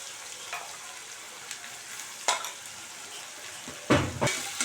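Ginger garlic paste and coriander sautéing in a pan for cauliflower gravy, a constant close sizzle broken by a few sharp scrapes and clinks of a spoon against the pan, with no talking.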